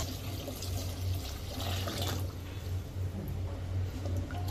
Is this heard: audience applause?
no